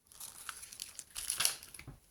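Adhesive tape is handled on a plastic stamping sheet used for scrapbooking, producing close, quiet crinkling and brief tearing rustles in short bursts, with a louder crackle near the end.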